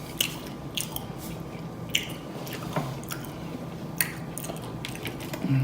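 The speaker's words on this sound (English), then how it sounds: "So I'm gonna try the hush puppy with cocktail sauce." Close, wet chewing of a Captain D's hush puppy dipped in cocktail sauce: soft bites and squishy smacking repeat at an unhurried pace, with occasional louder clicks and no talking.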